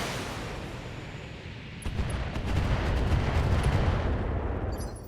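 Artillery fire in the BattleTech Advanced 3062 mech game, a dense, rumbling barrage of booms that swells midway and keeps going steadily with no talk.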